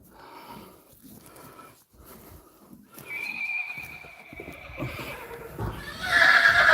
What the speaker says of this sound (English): the horses are talking.